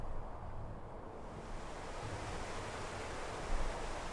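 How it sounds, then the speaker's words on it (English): Water surging onto the well deck of the hospital ship HMHS Britannic as it sinks in a video game, a steady broad rushing wash with a brief louder swell near the end. "The water making its way onto the well deck of the HMHS Britannic"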